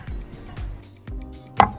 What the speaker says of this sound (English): I carefully cut the banana with a knife into thin plates.